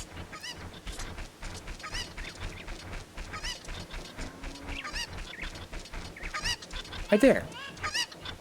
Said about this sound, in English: I can hear chicken over here.